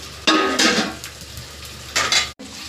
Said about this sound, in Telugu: ఇవి మనము మూత పెట్టుకోవాలి.